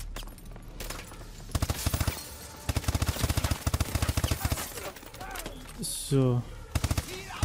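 Call of Duty Advanced Warfare gunfire in a bio lab mission: sharp machine-gun bursts come in repeated volleys over a rumbling background, with a brief spoken word at the start.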